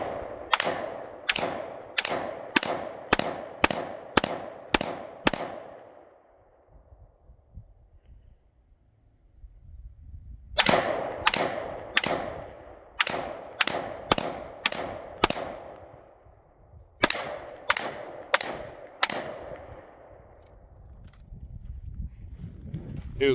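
Handgun shots at an outdoor shooting range, fired in rapid strings of about eight to ten sharp cracks each, with short pauses between strings and no talk.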